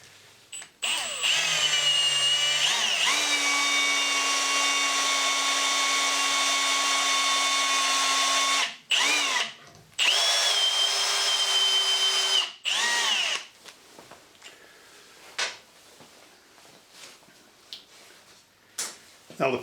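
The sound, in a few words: power drill drilling out broken screw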